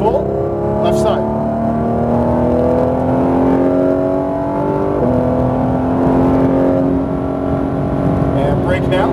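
A Porsche 991 GT3 RS at full throttle on a track, its engine note climbing in a loud, sustained rising whine with a brief dip at a gear change, while a voice speaks over it.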